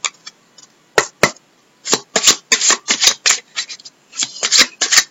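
Tarot cards being shuffled before a card is drawn, heard as crisp, close riffling bursts in several uneven runs separated by short quiet gaps.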